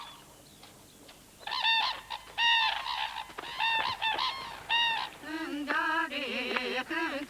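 Cranes call in a Japanese marsh, a loud series of honking, trumpeting cries repeated in overlapping bursts, at times several birds together, with no talk.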